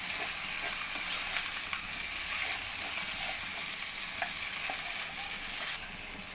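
Curry powder hits a hot pan of frying food, giving a steady, close sizzle and hiss that holds evenly and then softens slightly near the end.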